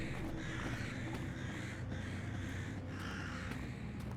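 Crows caw in the ambient sound of the video game Geamana Village, a few rough calls repeating over a constant low outdoor background with no speech.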